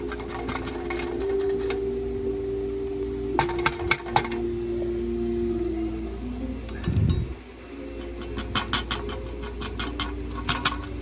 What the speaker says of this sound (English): most of the metal sounds, the rattle sounds, are heat shields